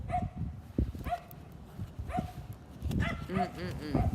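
A dog barks and yips several times at a moderate distance, short bursts scattered through the stretch and thickening toward the end, under a person speaking.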